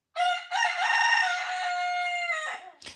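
A rooster crows once, a long full cock-a-doodle-doo from near at hand, clear and loud, with no talking over it.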